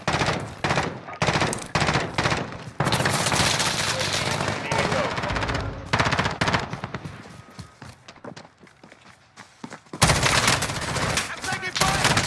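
Call of Duty Warzone gunfire rattles in dense, loud automatic bursts almost without pause, with a brief quieter lull before heavy shooting resumes, and faint voices mixed in.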